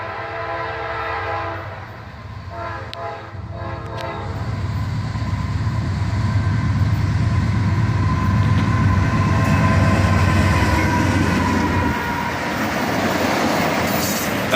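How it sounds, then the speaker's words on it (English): Freight locomotive horn sounding in a short series of blasts at a rail crossing, followed by the steady rumble of the diesel engines and rail cars rolling past, loud and close, with no talking. "so we got a little horn show from this guy"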